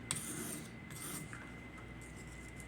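A knife stroked across the fine side of a sharpening stone, giving a faint, close, gritty rubbing rasp in a few short passes.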